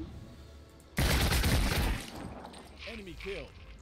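A loud burst of rapid video-game gunfire hits targets in a volley lasting about a second, then fades into quieter background effects while someone talks.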